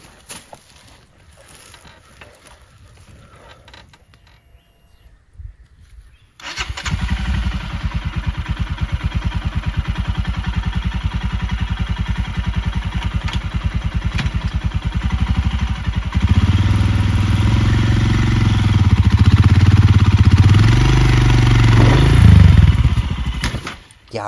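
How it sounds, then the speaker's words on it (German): A motorcycle engine starts after a few quiet seconds and runs steadily, loud and close, during a solo motorcycle recovery with a ratchet strap, with a deeper rumble building near the end alongside some clatter. "versuche ich jetzt mit laufendem Motor die Maschine so ein bisschen nach vorne zu bekommen"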